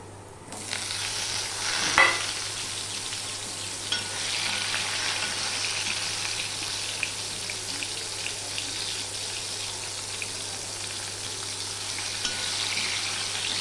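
Mangoes drop into a pan of sour dal and set off a steady sizzle that goes on throughout, close and moderate, with a soft splash as they go in and no talk.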